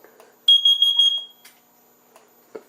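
A carbon monoxide detector on a home fire alarm system gives a single loud, shrill electronic tone lasting about a second, then faint room noise and small knocks follow.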